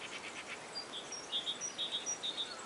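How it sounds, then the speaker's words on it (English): Outdoor birdsong: short, high, thin chirps repeating in quick pairs, faint over a steady hiss of background noise, with no voices. "I love listening to birds."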